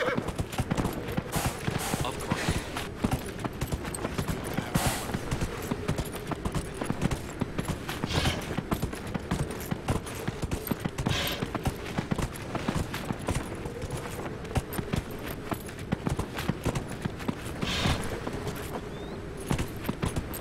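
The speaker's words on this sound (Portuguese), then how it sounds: "Vou chamar o nosso cavalo amigo." Horse hooves clip-clop steadily while riding in the video game Dragon Age Inquisition, a continuous rhythmic trot heard throughout with game ambience and some speech-like sound mixed in.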